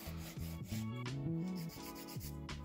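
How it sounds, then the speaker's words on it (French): A nail file rubs back and forth over gel nails to remove the gel, giving a close, continuous abrasive scraping in steady strokes. "Je fais juste passer la lime dessus"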